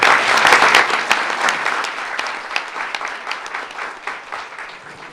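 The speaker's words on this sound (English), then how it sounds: "Let's give them another round of applause." Loud applause at a board meeting, dense clapping at first that gradually thins and softens over several seconds.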